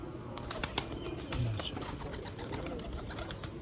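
Sialkoti pearl-eyed pigeons, young pure-bred breeder birds, give a brief low coo among scattered wing flaps and sharp clicks, close by over a steady background hiss.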